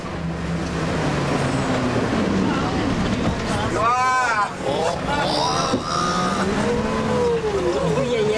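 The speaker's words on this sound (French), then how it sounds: "Dernière étape pour notre petit bus, la traversée chaotique de 2 bras de rivière" An old bus rumbles and splashes through two branches of a river near Landmannalaugar, Iceland, its engine drone steady and close, with voices talking over it partway through.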